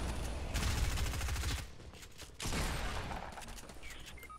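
Rapid bursts of gunfire in the video game Fortnite, loud and dense, dropping off briefly midway before another sustained volley resumes.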